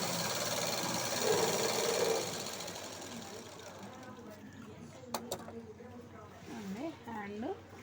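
A sewing machine runs briefly while stitching a dress sleeve, a fast mechanical whir at the start that stops after about two seconds, followed by someone talking.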